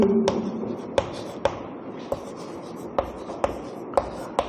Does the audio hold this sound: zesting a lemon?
no